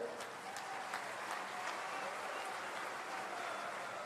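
Audience at a political rally in Rajasthan applauding, a dense steady wash of clapping from a large crowd that holds at an even level throughout, with no speech on top.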